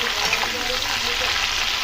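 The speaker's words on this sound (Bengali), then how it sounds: "এবার হাই ফ্লেমে এগুলো আমি ভেজে নেবো পুরো ভালো করে" Capsicum frying over a high flame in a kadai gives a loud, dense, continuous sizzle, close and unbroken throughout.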